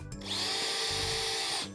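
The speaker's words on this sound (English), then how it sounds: "Then drilling a hole," A power drill bores a hole for a cabinet leg during base unit assembly, a short whirring burst of about one and a half seconds with a steady high whine, close and loud.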